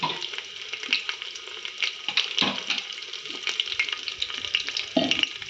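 Mustard seeds, cumin, garlic, dry red chillies and curry leaves fry in hot oil for a festival holige saaru tempering, a steady crackling sizzle with sharp pops and stirring scrapes, close and with no voices.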